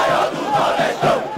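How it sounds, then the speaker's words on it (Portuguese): A stadium crowd in the PES 2010 football video game during a Bahia versus Grêmio match, a loud sustained roar and chant that swells and dips throughout. "escuta só esta torcida. Eles vão apoiar o time o tempo todo"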